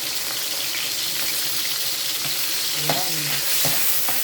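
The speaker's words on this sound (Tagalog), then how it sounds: "igisa na nato ang ahos o bombay" Garlic or onion sautéing in a pan for escabeche, a steady close sizzle with a few scraping stirs and clanks near the end; a voice speaks once briefly.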